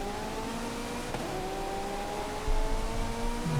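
A car drifts across a wet track in the racing game Forza Horizon 5, its engine holding a steady droning whine with rising harmonic tones and a faint swell of tire noise near the end, loud and continuous with no talk.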